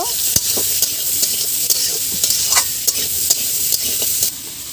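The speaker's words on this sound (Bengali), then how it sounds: "হলুদ দেবো অল্প, লবণও দেবো অল্প পরিমাণে, মিশিয়ে দেব।" Turmeric and salt get stirred into a sizzling vegetable curry with prawns in a pan, the spoon scraping and clinking in a repeated rhythm over a continuous close frying hiss.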